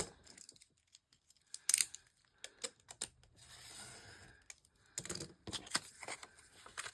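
Junk mail envelope paper is cut with scissors in short, quiet bursts of snips and rustles separated by pauses, close and faint with no talking.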